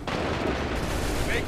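Musket volley gunfire on a battlefield in the video game Assassin's Creed III: a dense, loud burst of shots blending into a continuous roar, with a shouted voice in the mix.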